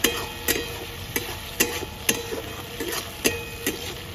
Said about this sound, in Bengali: পেঁয়াজটা একটু ভালো করে ভেজে নেবো, তারপরে চিকেনটা দিয়ে দেবো।